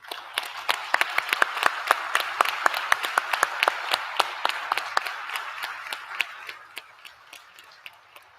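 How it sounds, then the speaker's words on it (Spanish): An audience at a conference session applauds public servants, the sharp individual claps ringing out distinctly at a moderate pace and gradually thinning toward the end. "quiero pedir un aplauso para ella y para todos los servidores públicos"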